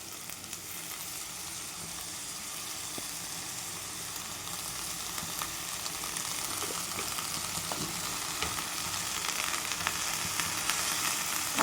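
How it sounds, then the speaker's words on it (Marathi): Drumstick leaves and tomato fry in hot oil in a pan, giving a steady, even sizzle with faint crackles that runs throughout with no talking. "आपल्याला तेलामध्ये छान भाजून घ्यायची आहे भाजी"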